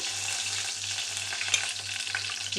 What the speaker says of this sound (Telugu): చిటపాట్లు ఆడుతున్నాయి కదా, చూడండి.